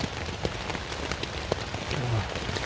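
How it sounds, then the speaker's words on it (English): Heavy rain patters steadily on a tent deep in the woods, a dense close hiss of drops with scattered sharper taps throughout. "the wind's going for it, the rain's going for it"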